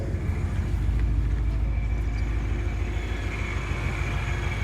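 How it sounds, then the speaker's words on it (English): Supercharged Ford Mustang GT with a loud blower, heard from inside while driving under boost: a steady, dense engine roar and whine holding constant throughout, with no talking. "When I say this blower is loud, this thing is loud, especially when you get on it."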